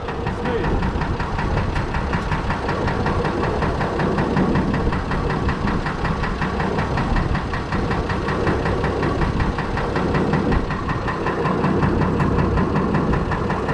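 A Fordson Major tractor fitted with a Perkins straight-six diesel engine runs steadily nearby, a loud, continuous knocking idle with a dense, even chug and vibration throughout.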